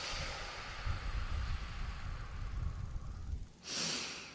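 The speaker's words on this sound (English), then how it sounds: "And one last one, breathing in" Slow, deep breath drawn in through the nose during a guided breathing exercise at a worship service, a long soft rushing inhale followed by a brief pause and a stronger, breathy exhale, close and alone.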